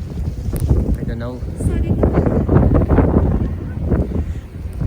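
Strong wind roars during a snowstorm in Toronto, a steady broadband rush buffeting the microphone close by, with people talking over it throughout.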